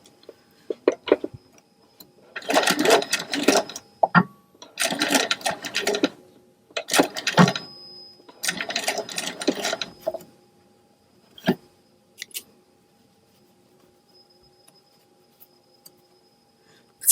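Sewing machine running in several bursts of a second or two, stitching rows of gathering or basting stitches on fabric at a 5/8 inch seam, with steady mechanical ticking between quieter pauses, close and fairly loud.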